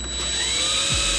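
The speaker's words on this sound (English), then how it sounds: "I'm gonna use a 9/64 drill bit to start the pilots" A power drill fitted with a 9/64 bit whines steadily at close range while boring pilot holes for fender flare hardware on a 5th generation Toyota 4Runner, a continuous high motor tone with no talking.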